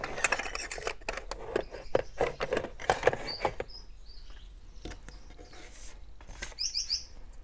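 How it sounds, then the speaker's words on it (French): Small scissors cutting paper for a handmade scrapbook card, a quick run of close, crisp snipping strokes that slows, pauses, then resumes with a few light snips at the end. "là j'ai plus qu'à découper. Alors mes petits ciseaux."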